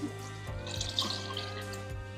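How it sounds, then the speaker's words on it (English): Pasta water is poured into a pot of vegan mac-and-cheese sauce base, giving a quiet, steady liquid trickle with faint drips and no talking. "I'm going to add a little bit more of this pasta water."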